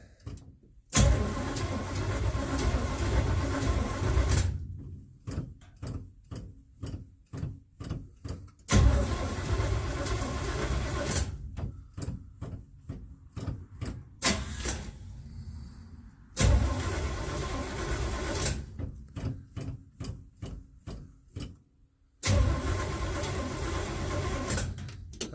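A 1967 Chevelle engine cranks over without starting, with four long bursts of rapid, rhythmic starter churning separated by short silences, loud and close.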